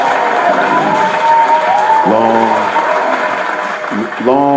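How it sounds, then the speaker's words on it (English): A hip hop night crowd at Bar None in Springfield claps and cheers for Torch Radio, loud and continuous, with a voice speaking over the applause. "Round of applause, Torch Radio."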